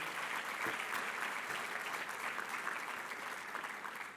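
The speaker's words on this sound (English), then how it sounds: "give the Climate Registry organization another hearty round of applause" Hearty audience applause at a climate leadership conference plenary, a steady wash of many hands clapping that holds for about four seconds and tapers slightly at the end, with no talking over it.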